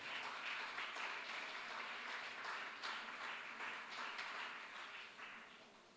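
A church congregation applauds at a sermon, a steady wash of clapping at moderate, fairly distant level that runs the whole stretch and thins slightly toward the end.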